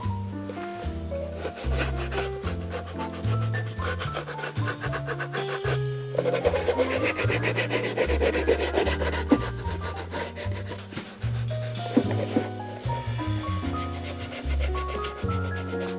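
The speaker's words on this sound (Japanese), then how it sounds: "仕上げるために隅にクリームを入れるためにこのブラシ使って塗ります" A short-bristled brush works polishing cream into the corners of women's handmade leather brogue shoes, making close, continuous scratchy scrubbing strokes in a quick back-and-forth rhythm with no talking.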